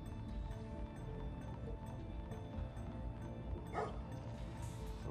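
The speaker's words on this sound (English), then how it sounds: "Doggies." Dogs bark a couple of houses away in a residential neighbourhood at dusk, faint and distant, with a few short yaps and barks over quiet outdoor background.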